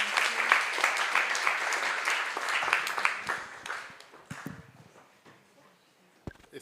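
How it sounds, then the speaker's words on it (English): A conference audience at a panel on textile sector transformation breaks into dense, close clapping that thins out after about four seconds, leaving a few scattered claps and faint shuffling. "Big applause, everyone."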